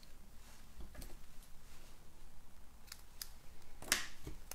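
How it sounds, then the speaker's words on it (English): Scissors snip the tails off a ribbon bow during card making, a few sharp, quiet cuts spread across a soft, low room background, with one crisper snip standing out near the end. "Snip it off."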